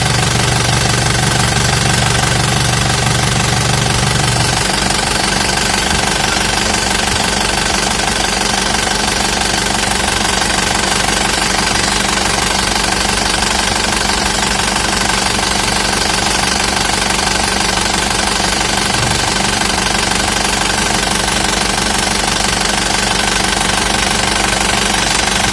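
An Isuzu Elf truck engine from a 2018 Adi Putro Giga build runs steadily with a loud, continuous mechanical clatter and knocking rumble, close up and unbroken for the whole stretch.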